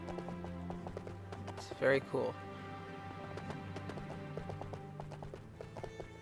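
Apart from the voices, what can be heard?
horse hooves galloping in Lego Lord of the Rings video game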